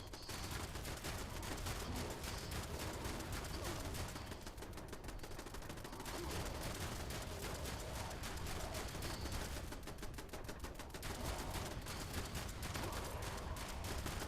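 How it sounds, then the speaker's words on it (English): Turrets in the Fallout 76 video game fire in long, rapid automatic bursts, a dense stream of gunshots that pauses briefly and resumes, fairly faint and steady throughout. "my turrets are going off"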